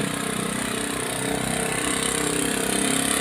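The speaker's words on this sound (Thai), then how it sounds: "นี่ครับใส่สโลต่อที่หนึ่งจะประมาณนี้ครับ ใช้รอบเครื่องเท่ากัน" A three-wheeled cargo truck engine runs steadily in the first slow gear, giving a continuous close, fairly loud rumble at an even pace with no voices.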